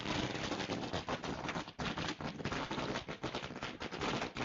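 Firecrackers burst in rapid, dense volleys at a village sports prize ceremony, loud crackling strings with a brief gap partway through and no talk.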